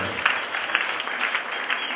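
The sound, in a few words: applause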